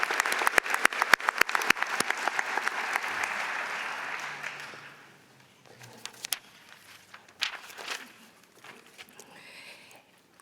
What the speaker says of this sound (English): let's give them one more round of applause for their students and for their families who have supported them